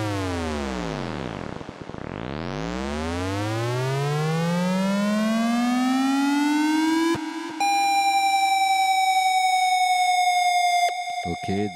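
A synthesized dub siren from the SHR Dub Siren plugin for Ableton sweeps down, then glides steadily upward, then breaks into fast warbling oscillations, loud and continuous with no voices.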